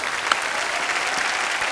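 A studio audience on a comedy talk show bursts into loud, steady applause for yoga guru Baba Ramdev, a dense wash of many hands clapping that holds unbroken throughout.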